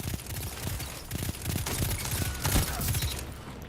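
Rapid automatic gunfire from the Lincoln Green auto rifle in Destiny 2, a fast steady rattle of shots in several bursts with game explosions and effects layered over it, loud and close throughout.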